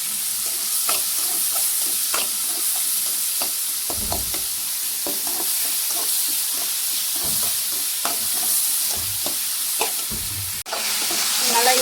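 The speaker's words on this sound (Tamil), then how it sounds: "இது கூட கொஞ்சமாக உப்பு சேர்த்து வதக்கணும்னா கொஞ்சம் சீக்கிரம் நல்லா வதங்கிடும்" Vegetables sauté with salt in a hot pan for a capsicum gravy, a steady sizzle broken by repeated scraping stirs of a spoon, close and continuous with no talking.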